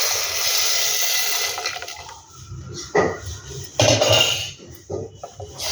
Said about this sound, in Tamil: நல்லா மோர் குழம்பு மோர் இதில் ஊற்றியாச்சு